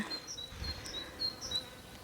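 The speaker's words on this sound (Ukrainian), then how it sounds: "там бджоли водичку п'ють" Faint bee buzzing drifts in and out, high-pitched and thin, as bees drink water in a garden, with soft outdoor ambience and no voices.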